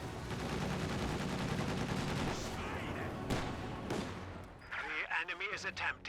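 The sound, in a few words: rifle fire in video game Company of Heroes 2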